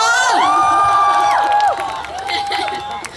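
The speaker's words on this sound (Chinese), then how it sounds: "我想再一次听大家的尖叫声" An audience at an event in Taiwan screams and cheers loudly, with high-pitched shrieks sweeping up and down before the crowd noise eases toward the end.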